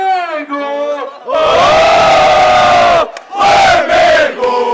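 A large stadium crowd of Flamengo football supporters chants loudly in unison, roaring in sustained bursts with brief gaps between phrases, dense and close.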